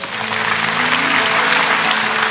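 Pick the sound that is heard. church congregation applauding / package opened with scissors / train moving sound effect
church congregation applauding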